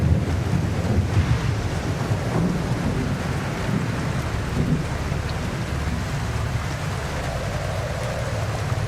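Ocean water in The Alters video game rolls as a continuous, loud wash of surf and rumbling waves, steady throughout with wind-like noise and no speech.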